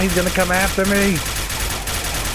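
A Geiger Rifle fires in the video game Fallout 4, a dense rattle of rapid shots heard under someone speaking at the start and then continuing alone.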